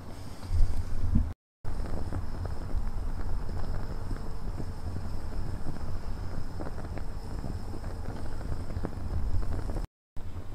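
A light outdoor breeze blows where spirit burners are lit, giving steady rushing wind and gusty rumble against the microphone throughout, with no one speaking.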